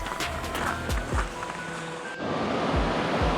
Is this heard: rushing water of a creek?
yes